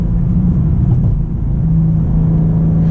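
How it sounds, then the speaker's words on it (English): A 2023 BMW M2 with a six-speed manual gearbox accelerates in Sport mode, its engine giving a steady, loud, close rumble with a droning tone held throughout, with no talking. "They actually feel faster once the turbo spools up and gets going here."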